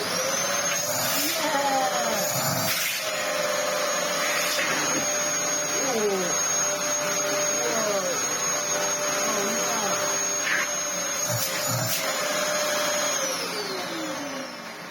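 A Dyson DC07 vacuum cleaner fitted with a Brush Control HEPA+ floor tool runs steadily and loudly for the whole stretch, its whine wavering in pitch as the tool moves, with occasional brief knocks.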